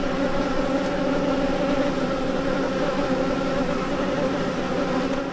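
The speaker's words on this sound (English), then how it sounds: "the first second we got here, there was bees" Bees swarm around a sailboat, making a continuous, dense buzzing drone close by that holds steady throughout.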